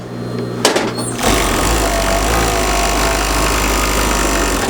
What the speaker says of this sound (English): What this serger is doing is it's laying down a line of stitching, and then it is overlapping from top and bottom that entire seam